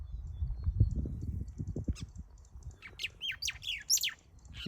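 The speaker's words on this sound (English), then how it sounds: "What's the name of this bird?" Wild bird chirping in the bush, a series of quick high tweets and short calls in the second half, fairly close, over low rustling and handling noise.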